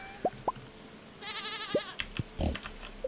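Sheep bleating on the farm in the video game Stardew Valley Expanded: several short, sharp bleats, then one longer wavering bleat, with more brief calls after it, fairly close and clear against a quiet background.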